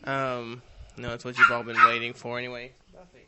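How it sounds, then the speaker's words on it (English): A dog barks and yips several times close by, its short sharp calls mixed in with someone speaking over it. "Sorry about the dog."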